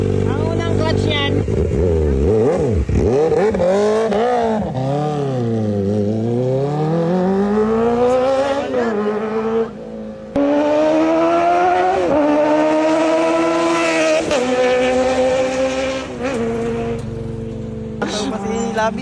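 A big bike motorcycle engine revs and accelerates through the gears, loud and close, pitch climbing and dropping repeatedly over about nineteen seconds with people talking under it.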